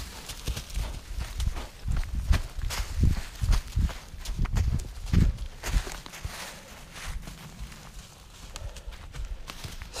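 A horse's hooves clip-clop at a walking pace through a forest, loud, close and irregular at first, then fading softer toward the end.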